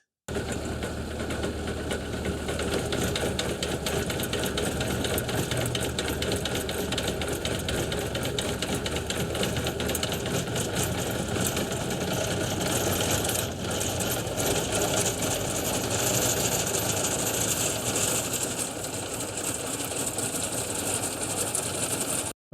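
A garden tiller runs continuously while churning soil on a homestead plot: a loud, steady engine drone with rattling vibration that holds unbroken from start to finish.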